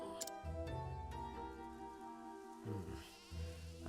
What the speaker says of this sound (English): Love the goats too.